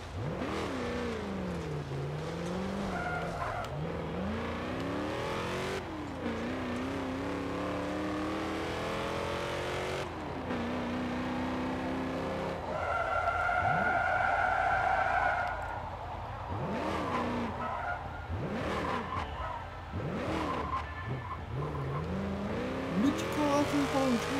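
A Cadillac Escalade in Forza Motorsport 7 while parallel parking, its engine revving up and down through gears with tyre squeals and skids, while someone talks over the game sounds.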